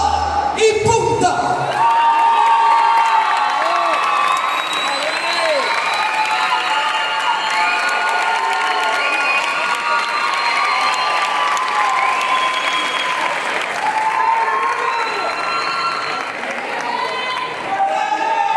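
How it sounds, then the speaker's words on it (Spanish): An audience at a salsa dance competition final applauds a salsa group, with dense, sustained clapping, cheers and whoops filling the room for the whole stretch and scattered voices mixed in. "Recibimos con un fuerte aplauso a Sabor y Punto."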